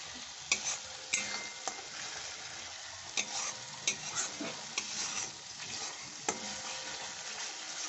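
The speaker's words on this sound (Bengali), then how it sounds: "আদাটা দিয়ে কষে দিচ্ছি, খুব ভালো করে কষতে হবে।" Spices and ginger stir-fried in oil make a soft sizzle broken by repeated sharp scrapes and taps of a spoon on the pan, fairly quiet, with no talking.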